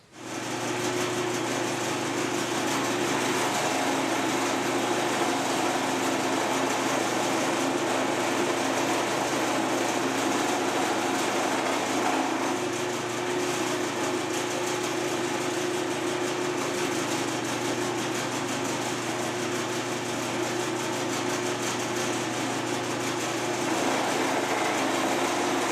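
A milling machine takes a cut on a small metal part, a delicate machine making several passes; a steady, loud mechanical hum with constant tonal whine runs throughout, with no talking.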